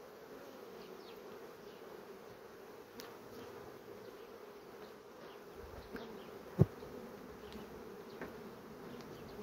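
Honeybees buzz around their hive in a steady, even drone, a continuous hum of many insects close by, broken once by a brief sharp click or knock.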